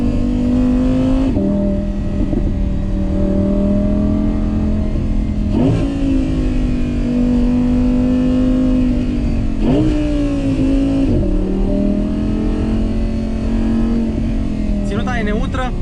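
An Audi R8 V10 Performance quattro Spyder runs on a test drive, its engine droning steadily with several rev rises and gear-change dips, heard from inside under continuous talking.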